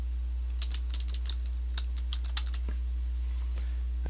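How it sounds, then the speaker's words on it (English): A domain name typed on a computer keyboard: a quick run of light, close key clicks in an irregular rhythm over a steady low electrical hum. "your domain name."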